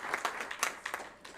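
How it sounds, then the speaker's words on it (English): A brief, faint burst of audience applause at a university research plan launch, scattered claps rising and fading within a second or so, heard from a distance. "Round of applause for Cape Peninsula University of Technology."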